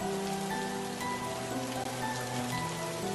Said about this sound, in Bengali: এখনো বাইরে বৃষ্টি পড়ছে।